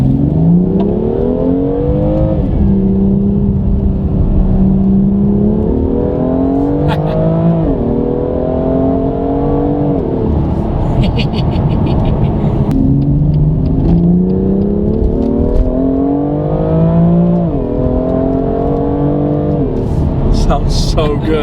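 A BMW M2 with a Remus aftermarket exhaust revs hard and repeatedly, rising and falling in pitch with a loud, throaty rumble close by, continuous throughout.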